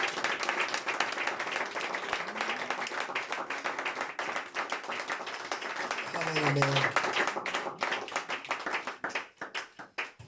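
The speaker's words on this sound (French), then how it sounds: "On va acclamer très fort." A church congregation claps steadily and loudly throughout, with cheering voices and a speaker's voice mixed into the applause near the end.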